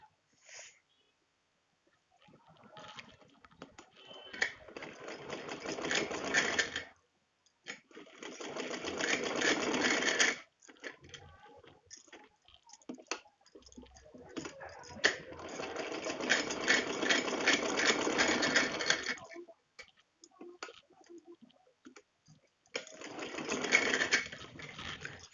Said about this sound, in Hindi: म्यानी सिल के दिखा देते हैं आपको